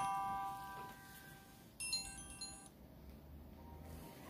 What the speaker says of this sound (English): I'm hoping it doesn't ring again during your video.